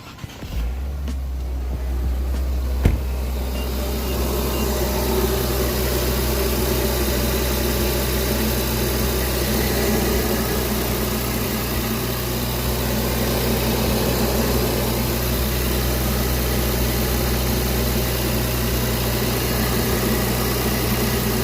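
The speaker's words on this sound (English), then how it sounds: "then we're gonna start the car" A 3.0-litre twin-turbo Infiniti Q50 V6, fitted with a new serpentine belt, fires up with a brief start burst near the beginning, then settles into a steady, close, even idle hum with a faint whine for the rest of the clip.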